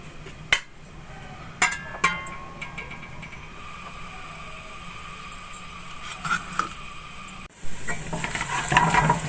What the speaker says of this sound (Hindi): अब मैंने लहसुन को ब्राउन कर लिया